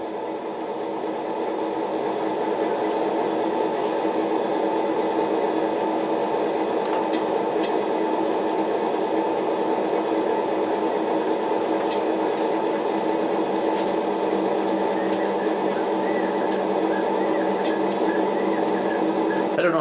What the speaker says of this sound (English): you can hear the dynamic brake fans kicking on